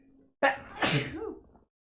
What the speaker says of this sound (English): Every time I stream, I sneeze.